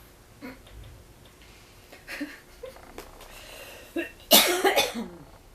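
A woman with a chronic cough lets out a sharp, loud cough burst near the end, after a few faint throat sounds in an otherwise quiet room.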